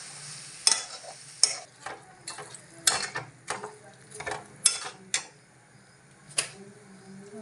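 Soybeans being stirred and fried in a pan make a series of sharp, irregular scraping clacks as a spoon works through them, over a quiet low sizzle.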